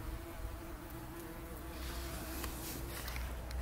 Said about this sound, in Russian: Вон шмель прилетел. Даже два шмеля здесь.